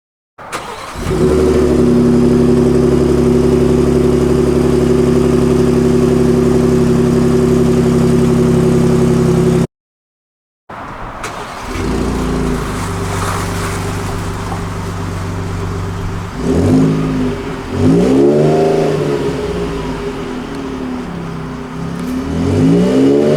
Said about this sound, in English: But then there is this exhaust note.